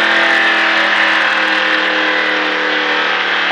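A NASCAR stock car's engine roars loudly and steadily as it accelerates on a racetrack, heard from inside the car with a continuous, saturated drone throughout.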